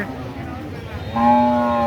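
Cattle at Talgachhi cattle market in Shahjadpur, Sirajganj, with a loud sustained moo rising out of busy market background noise and murmuring voices.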